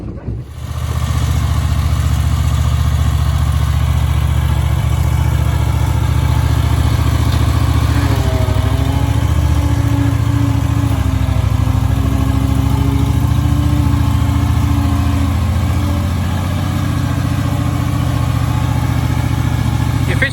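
A Husqvarna V554 stand-on zero turn lawnmower engine runs loudly and steadily close by for the whole stretch, starting up in the first second and holding a constant droning hum with slight variations in load.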